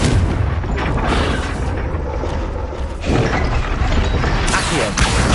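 The Confringo fire spell from Hogwarts Legacy striking a target, heavy booming blasts over a loud, dense rumble of game noise, with a second surge of impact near the end.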